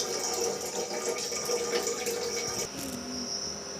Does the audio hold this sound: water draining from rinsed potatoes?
yes